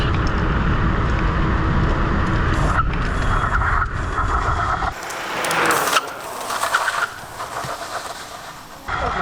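Budget electric scooter at full throttle above 40 mph, a loud sustained roar of wind and motor whine that drops abruptly midway, then gusty rushing air with a few bumps.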